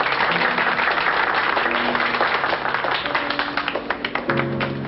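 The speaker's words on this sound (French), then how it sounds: "Allez, on applaudit gentiment la jolie dame en noir" An audience applauding in a theatre, a dense wash of many hands clapping steadily at close range, tapering slightly toward the end with faint murmuring underneath.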